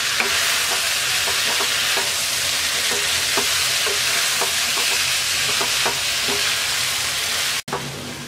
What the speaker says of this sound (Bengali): এবার ধনেপাতা কুচি দিয়ে নেড়ে চেড়ে 1 মিনিট রান্না করে নামিয়ে নেব